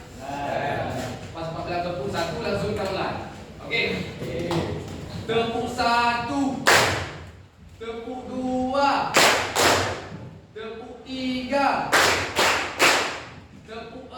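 Bursts of hand clapping from a group break in between stretches of talk in a classroom-like room, coming as a few quick claps near the middle and a cluster toward the end.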